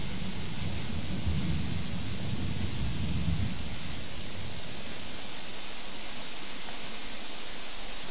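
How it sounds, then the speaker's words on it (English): Steady, heavy rain and a long, deep rumble of thunder in the game Darkwood; the rumble swells loudly for the first few seconds, then fades away, leaving only the dense hiss of rainfall. "Rains pretty often here, doesn't it?"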